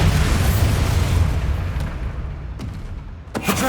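A Bombarda spell explosion bursts in Hogwarts Legacy combat, a loud, close boom that rolls and fades over a few seconds, followed by a couple of small sharp pops.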